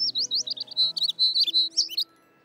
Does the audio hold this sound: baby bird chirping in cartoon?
yes